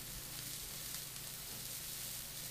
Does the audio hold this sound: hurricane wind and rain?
no